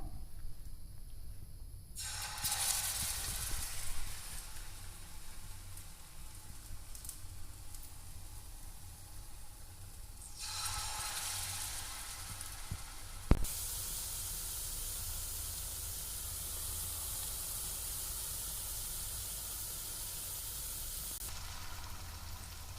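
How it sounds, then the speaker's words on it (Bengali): Gokul pitha dipped in batter fry in shallow oil over medium heat, giving a steady, soft sizzling hiss that swells and fades in stretches with one sharp click midway. "এখানে এখন পিঠেগুলিকে একটা একটা করে চুবিয়ে হালকা তেলে ভেজে নেব"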